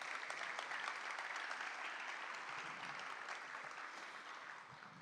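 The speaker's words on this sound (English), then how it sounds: "Would you please give them a round of applause?" An audience at a preservation awards ceremony applauds steadily, a dense, even wash of clapping from a large room that slowly tapers off, with no voices over it.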